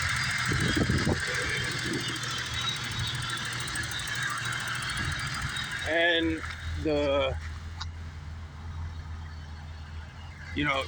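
A 1988 BMW 535i E28 engine idles with a steady low hum and a faint high whine, while a voice speaks briefly over it partway through.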